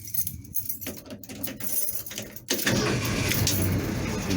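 An old truck engine cranks with a few uneven turns, then catches at the midpoint and settles into a loud, rough, steady idle close to the listener.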